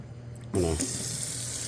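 A kitchen tap suddenly turns on full, and cold water gushes steadily over cooked rice noodles draining in a sink, a loud continuous splashing rush.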